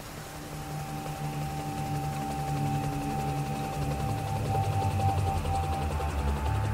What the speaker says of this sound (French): Je prends donc la main sur cette recherche en pilotant l'hélicoptère en fonction de l'avancée de mes hommes sur le terrain.